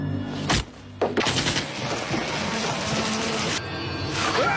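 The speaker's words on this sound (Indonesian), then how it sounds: "Tembakan demi tembakan dilepaskan" Rapid bursts of gunfire sound effects crack out in quick volleys, loud and close, with a short gap before a sustained stretch of shooting and booming impacts.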